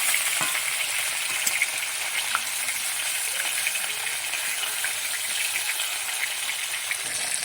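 Steady, bright sizzle of small puti fish frying in hot oil, continuous crackle with small pops throughout, close and fairly loud, no voices.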